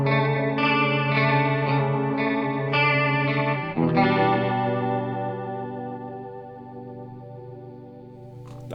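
A sustained electric guitar tone through a Noise Merchants chorus vibrato effect pedal, wavering and shimmering, playing a few notes then ringing out and slowly fading, no voices.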